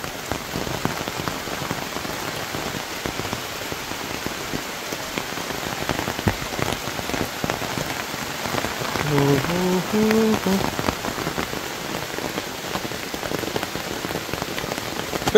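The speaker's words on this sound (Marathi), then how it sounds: "पावसाचा आवाज बघा जोरात आलाय पाऊस." Steady, heavy rain falls in a forest in the Konkan countryside, drumming continuously on leaves and ground at close range. A few faint tonal chirps rise briefly midway through.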